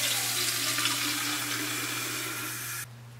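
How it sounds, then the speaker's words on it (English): About 200 milliliters of water pours in a steady splashing stream into a beaker for a few seconds, then cuts off abruptly, leaving a low hum. "I'm going to pour that into my other beaker."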